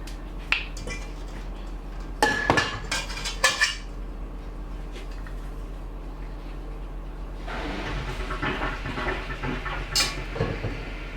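Frangipane mixture being spooned in small spoonfuls into a Bakewell tart pastry case, with a few sharp metallic clinks of spoon against bowl and dish, then softer scraping, close up over a low kitchen hum.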